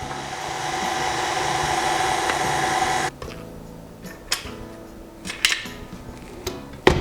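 An electric mixer whirs on low speed through pumpkin bread batter, a steady motor hum that cuts off abruptly, followed by light scraping and clinking of utensils against the bowl.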